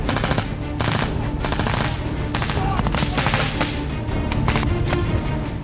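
Sustained machine gun fire crackles through an army battle simulation, dense rapid bursts stacked with overlapping shots, loud and close, continuous for several seconds with no pause.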